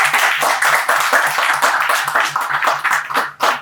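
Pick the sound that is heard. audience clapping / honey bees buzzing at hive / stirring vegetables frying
audience clapping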